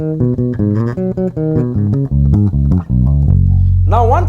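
Bass guitar playing a fast pentatonic lick, a quick run of plucked notes in steady rhythm ending on a held low note with a slide, close and clear, alone.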